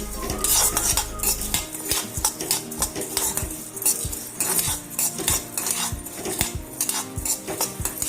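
Chana dal and urad dal dry-roasting in a pan, stirred with a utensil that scrapes and clinks against the metal in a steady repeated rhythm, close and fairly loud, with no talk.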